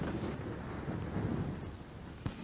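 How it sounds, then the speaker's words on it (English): A low, rolling rumble of thunder fills the clip, steady and fairly distant, with a brief sharper crack near the end. "There's a storm coming up."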